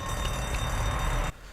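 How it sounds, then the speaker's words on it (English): Alarm ringing inside a storage room in The Walking Dead video game, a loud, continuous electronic tone that holds steady before cutting off abruptly near the end. "You get into the storage room and an alarm rings."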